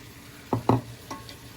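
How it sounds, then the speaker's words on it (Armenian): Onions frying in a pan as the base for a chicken sauce, with a soft sizzle under two quick stirring scrapes and a fainter third stroke, close and short. "սոխը շատ առատ ենք վերցնում, որպեսզի սոուսը համեղ լինի և տապակում ենք"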